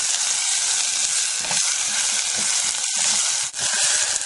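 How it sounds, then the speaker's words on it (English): Onions sizzle and fry in olive oil in a saucepan, a continuous bright crackling hiss with small pops and a few soft stirring scrapes, close and steady throughout. "Make sure you hear that sizzle."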